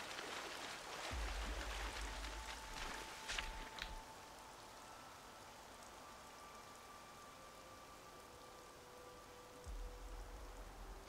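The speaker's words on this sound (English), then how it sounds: "We actually got rain, so we can quickly do this." Steady hiss and patter of rain falling in the Xenoblade Chronicles 3 video game, with soft game chimes and low thuds layered over the constant downpour.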